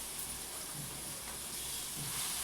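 Coriander chutney sizzles in hot tempering oil, a steady frying hiss with faint bubbling that holds at a constant, fairly quiet level with no voices.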